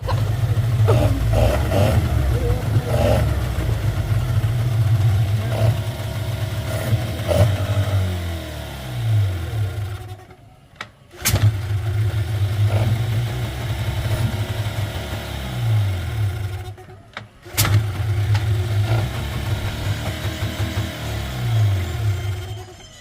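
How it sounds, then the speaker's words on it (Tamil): A repaired engine, just started after the work was finished, runs with a steady low rumble and rising revs, cutting out briefly twice and restarting, with no talk over it. "இந்த இன்ஜின் வேலை முடிஞ்சது இப்போ தான் ஸ்டார்ட் பண்ணி"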